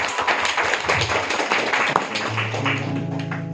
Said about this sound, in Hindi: जोरदार प्रभु के लिए जोर से तालियां।